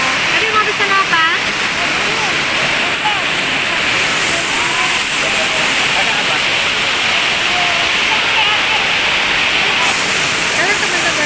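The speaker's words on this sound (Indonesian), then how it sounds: "Di sini itu lagi hujan deras" Heavy rain pours down steadily, a dense, loud hiss close at hand that continues without a break throughout. Family members chat faintly underneath while sheltering over a lunch at a roadside food stall.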